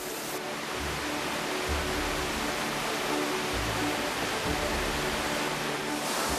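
Veronica's Hair Falls in the Altai mountains pours in a steady, broad rushing roar, moderately loud and unbroken, with no voices over the water.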